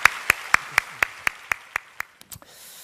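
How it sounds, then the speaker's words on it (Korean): A church congregation at a Sunday worship service claps in unison, a steady run of about ten evenly spaced claps that slows and scatters into a few final ones before stopping. "박수로 하나님 앞에 영광을 드려드리겠습니다."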